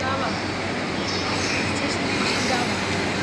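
A Shinkansen bullet train runs past a trackside spot in Tokyo as a steady, continuous rumble that holds level throughout with no clear approach or fade.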